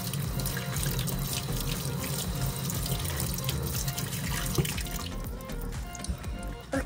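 Tap water runs steadily into a sink while doll hair is rinsed, a continuous close splashing rush with some dripping, no speech over it.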